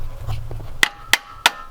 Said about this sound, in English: Tell me you didn't fit a fucking clutch with a hammer.